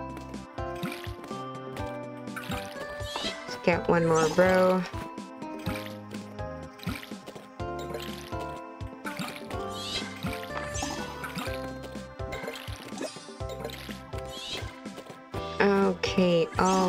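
Crops being watered in the farming game Fields of Mistria: soft watery splashes and drips repeat through a bed of game music, with a person talking over it.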